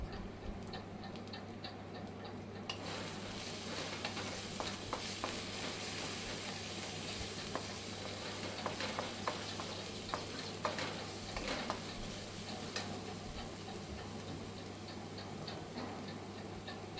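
Chicken frying with turmeric for a Sunday chicken fry, stirred now and then, giving a steady close sizzle with light scraping ticks throughout and no talk.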